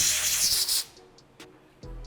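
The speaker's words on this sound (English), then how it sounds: "I'm just gonna spray a little bit of parts cleaner in here just to get the excess oil out" Parts cleaner sprays from an aerosol can into a King coilover shock absorber during a rebuild. A loud, close hiss lasts under a second, followed by a few short, fainter spurts.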